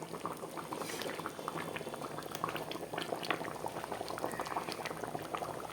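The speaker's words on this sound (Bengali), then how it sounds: "বাটা গরম মশলা দিলে সামান্য একটু ফুটিয়ে নিতে হয়" A curry of vetki fish and taro simmers after ground garam masala is stirred in, giving a steady close bubbling boil with dense popping and gurgling and no speech.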